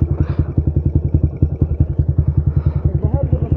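A Yamaha Sniper 135 motorcycle engine running close by with a loud, rapid, evenly pulsing exhaust thump, the beat slowing slightly toward the end.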